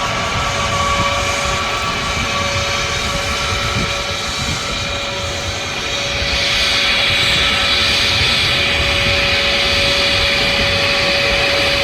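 An Airbus A321 airliner near Manchester Airport gives off a loud, continuous jet engine roar with a steady whine, the rushing noise swelling slightly in the second half as the plane passes.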